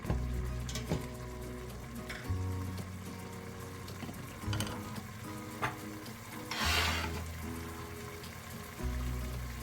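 Thick-cut carrots sweating in a pot for chicken noodle soup give a quiet, steady sizzle, with occasional stirring clatter and a low hum running beneath.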